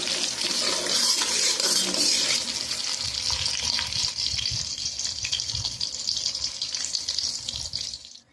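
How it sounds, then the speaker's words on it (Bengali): Red capsicum lightly frying in a pan gives off a steady, bright sizzle that runs close and continuous with no voices, its low crackle picking up partway through. "আমি লাল ক্যাপসিকাম দিয়েই করব হালকা ভেজে নেব বেশি কিন্তু ভাজবো না"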